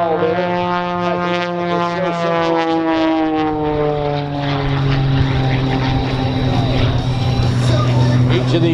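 A propeller aerobatic airplane roars overhead at an air show in Tampa, its engine pitch rising and falling sharply as it maneuvers, loud and continuous.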